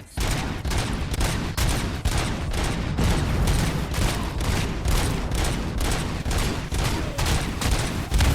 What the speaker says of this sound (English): how'd you get bombed with about 10 grenades?